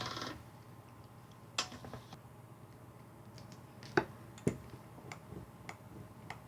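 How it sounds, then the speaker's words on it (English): Polymer clay feeds through a hand-cranked pasta machine, giving a quiet series of irregular clicks and ticks spaced a second or so apart over a low background hum, close up. "I've put this through my pasta machine quite a lot of times now"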